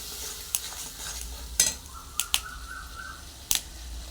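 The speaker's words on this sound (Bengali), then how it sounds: "আবার নেড়ে নিতে হবে খুব সুন্দর করে" Khichuri being stirred in a pot after water is added: a low, simmering background hiss punctuated by a handful of sharp spoon clinks and scrapes against the pot, with a brief tonal chirp in between.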